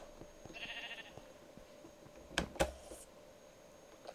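A sheep in the video game Minecraft gives one short, mid-loud bleat, followed about a second later by a couple of sharp, brief clicks over a quiet background hum.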